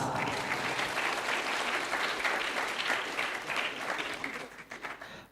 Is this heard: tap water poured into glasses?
no